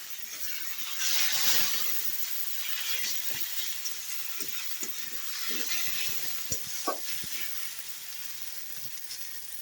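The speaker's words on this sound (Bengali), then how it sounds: "মাছগুলো পেঁয়াজ দিয়ে ভাজা।" Fish frying in oil with onion and chilli, a steady hiss of hot oil with scattered soft pops and crackles, close and fairly quiet, no one speaking.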